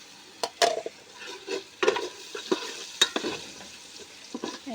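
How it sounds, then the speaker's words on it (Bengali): Shrimp tipped into a pan of already fried onions sizzle as a spatula stirs them, with a run of scraping strokes and clinks against the pan over a continuous hiss, close and clear. "চিংড়ি মাছটা এখানে আমি ঢেলে দিলাম।"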